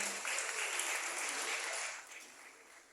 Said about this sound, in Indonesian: Tepuk tangan buat Kang Amih